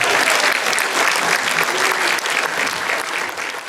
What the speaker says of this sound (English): Can we have a round of applause, please, for some of the cast of the series, The Bay.